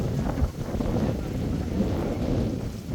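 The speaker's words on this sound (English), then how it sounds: "It's windy, windy, windy, folks." Strong wind buffets the microphone outdoors at Horse Guards in London in a continuous low rumble and roar, unbroken throughout.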